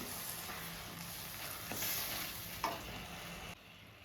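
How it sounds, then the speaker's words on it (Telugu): Tempering spices (popu) sizzle and splutter in hot oil while cooking thotakura pappu, a steady frying hiss with a few sharp pops, close and alone with no talking. "ఇలా వేసేటప్పుడు మటుకు కొంచెం జాగ్రత్తగా చూసుకోవాలండి, ఎందుకంటే పోపు పైకి చిమ్మే అవకాశం ఉంటుంది."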